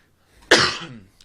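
A single sharp cough bursts out close by, its rough rasp tailing off over about half a second.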